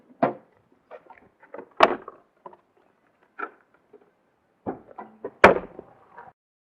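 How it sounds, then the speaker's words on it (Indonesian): A 2015 Daihatsu Copen's hood released and handled, a series of sharp close clicks, thuds and clunks spaced out over several seconds, the loudest knock near the end, with no talking. "baru di situ ada tombolnya untuk membuka kap mesin"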